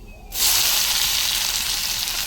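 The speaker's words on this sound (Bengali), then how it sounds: "আমি এবারে দিয়ে দেবো 1 বাটি পেঁয়াজ কুচি।" Chopped onion dropped into hot oil with black cumin seeds for an egg bhapa, bursting into a loud, steady sizzle that holds close and continuous after a quiet start.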